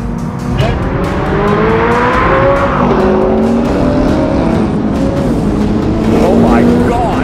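A 2023 Corvette Z06, a GTR NISMO and a 1000hp R34 GTR accelerating hard from second gear in a roll race: loud, close engine roar with rising and shifting gear pitches across the whole stretch, with voices over it.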